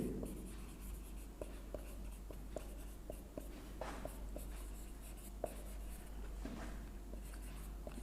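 Pen scratching on paper while working through a maths equation by hand, a faint dry scraping with small clicks and taps as strokes start and stop, steady and close, with no talk.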